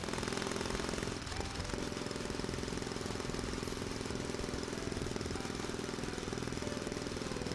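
A Kawasaki W800 motorcycle engine runs steadily on a test ride, a continuous loud mechanical drone with rapid rhythmic knocking and wind rush and no pauses.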